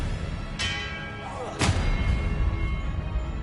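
Two sharp magical spell blasts from Expelliarmus in Hogwarts Legacy crack out about a second apart, each a bright burst with a ringing tail, over steady low background rumble.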